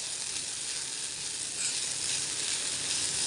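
Sabudana puliyodare (sago) cooks in a hot pan with a steady, loud, continuous sizzle and frying hiss, alone with no voices.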